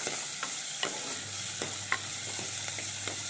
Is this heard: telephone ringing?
no